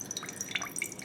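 Water poured from a balloon filled with beads into an extra cup, a brief run of light dripping and trickling splashes, close and fairly quiet.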